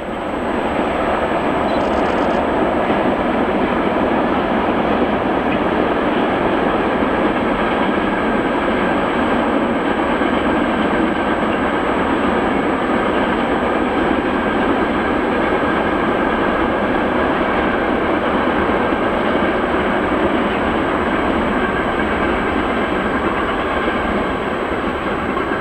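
A train runs along the Rhine line near Loreley station, a loud continuous rolling roar with rail rumble and faint clatter sustained throughout, close and steady without any voices.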